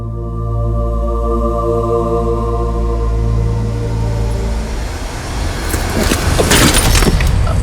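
A car's engine hums steadily on a road, then the drone fades and breaks up as the vehicle slows to a stop, followed by louder rustling and knocking noises close by.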